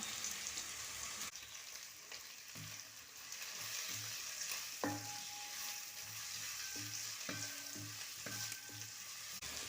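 Garlic, ginger and green chillies sauté quietly in a pan, a soft continuous sizzle with occasional light clinks of a spoon against the pan, and no voices.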